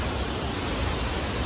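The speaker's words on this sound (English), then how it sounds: "This is literally the waterfall, and it is super white" A waterfall of rushing white water gives a dense, continuous roar of broadband noise, close and steady with no breaks, and no voices over it.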